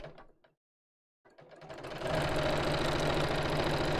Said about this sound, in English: the first thing we're going to do is to sew this long piece, raw edges together